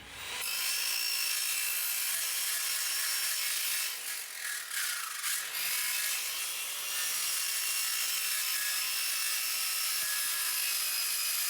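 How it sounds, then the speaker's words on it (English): A circular saw cuts through 1/8 inch hot-rolled steel plate in a home workshop, making a loud, continuous, harsh grinding whine that holds steady for about eleven seconds with no talking. "Job for the skill saw."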